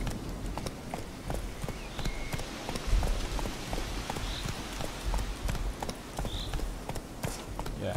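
Roach, the horse in The Witcher 3, gallops with a steady, rapid clip-clop of hooves at close range, the rhythmic beats continuing throughout over a low rumbling background.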